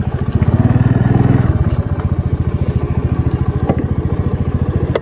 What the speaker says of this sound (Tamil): அதனால தான் நான் வண்டியை திருப்பிட்டு வரேன்